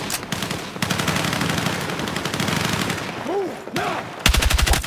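Automatic and single gunfire from Battlefield 6 combat, rapid loud bursts with a pause, then a sharp close volley at the end, mixed with game effects and faint voice.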